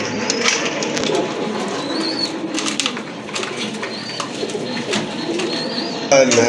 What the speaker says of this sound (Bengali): আরেক জোড়া কবুতর বিউটি হুমা